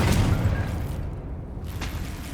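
A Confringo explosive fire spell blasts in Hogwarts Legacy with a loud, sustained, low, rumbling boom that fills the whole moment, with a brief sharper crackle near the end.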